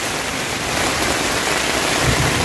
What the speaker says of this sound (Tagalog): Guys, ang lakas ng ulan talaga,